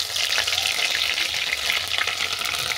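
Garlic, whole garam masala spices and dried red chillies frying in hot oil for a Bengali chicken broccoli curry, giving a steady, close, continuous sizzle with light stirring and no voices.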